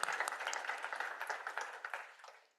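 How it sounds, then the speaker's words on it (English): A small audience claps for a couple of seconds, a scattered burst of hand claps that thins out and fades at the end. "More claps, more claps."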